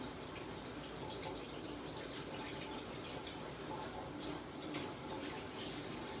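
A shower sprays steadily while a pet bird is bathed, making a continuous hiss of running and splashing water with small fluctuations and no break throughout.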